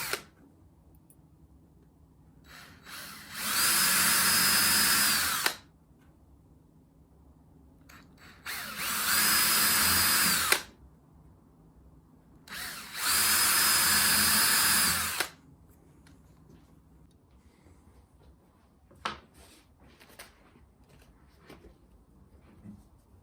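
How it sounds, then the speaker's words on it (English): A power drill bores 3mm holes in wood for a wooden mouse doorstop, three loud, steady whirring bursts of about two seconds each separated by quiet pauses with small handling knocks. "I'm now going to drill out some 3mm holes for the ears."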